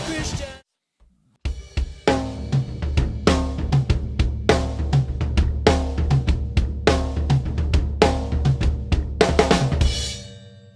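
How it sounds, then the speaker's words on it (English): Drum kit fill ending a rap verse: after a brief gap, a run of about four or five sharp snare hits followed by tom and floor tom strikes, then steady loud backbeat with crashes, close and continuous. "I hit the snare about 4 times, I think, 4 or 5 times, and then I hit the tom and the floor tom twice"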